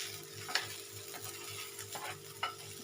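Peanut powder fries gently on a low gas flame for sabudana khichuri, giving a faint soft sizzle with light intermittent stirring scrapes, no talking.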